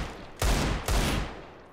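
Two loud, close video game gunshots fired in quick succession, each a sharp broadband crack that trails into a brief echoing decay, with no talking over them.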